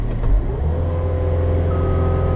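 A skid steer loader's diesel engine runs at full throttle, a loud, steady, close-up drone with a low rumble and sustained tones that rise slightly, with no talk over it.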